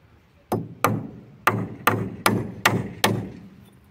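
Seven sharp hammer blows drive nails into wooden concrete formwork, striking at an uneven pace over a few seconds, each impact loud and close with a short ringing decay.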